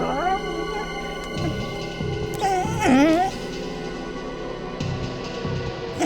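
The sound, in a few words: dog crying, whimpering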